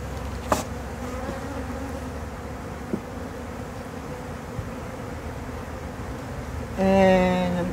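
Honey bees hum in a continuous soft drone around an open nuc colony, with a few faint knocks and a louder tonal hum rising near the end.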